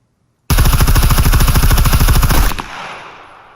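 A rifle fires in Scum, a rapid run of loud, closely spaced shots lasting about two seconds, then cutting off into a fading echo tail.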